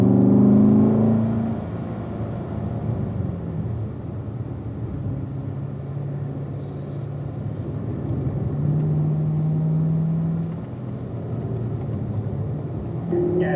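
Chevrolet Corvette engine driving on a race track at a Corvette driving school, a sustained loud droning rumble rising and falling with throttle, heard from inside the car.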